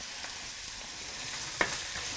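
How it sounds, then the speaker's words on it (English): Washed rice tipped into a hot pan for Indian home cooking, frying with a steady close sizzle and scraping stirs, one sharper clack near the end. "Now we can go on and add the washed rice to it."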